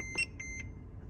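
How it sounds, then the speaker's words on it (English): A car sounds a faint, high electronic warning while a scan tool is connected to its brake system module, giving a couple of short beeps over a low background hum. "the car was beeping basically because we were in the brake system's computer"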